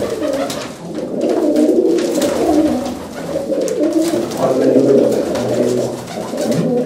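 Pigeons coo continuously close by, with overlapping throaty, rolling calls that keep going without a break and are loud and clear.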